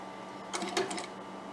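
A sewing machine runs briefly while stitching a kitchen towel scarf, a short faint burst of rapid mechanical clatter of only a few stitches over a quiet room hum.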